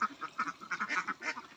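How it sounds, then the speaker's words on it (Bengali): Ducks quack in rapid overlapping bursts at a duck farm holding about five hundred birds, a busy, rhythmic chorus of nasal calls, fairly close and steady across the moment. "এই ফার্মে 500 হাঁস আছে।"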